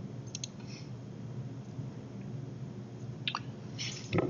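Crisp mouse clicks sound close and quiet, a pair early on and another pair near the end, over a faint steady room hum with no voices.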